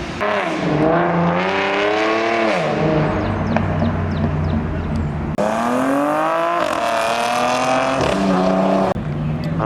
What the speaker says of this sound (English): This Nissan's gonna do a pull for sure.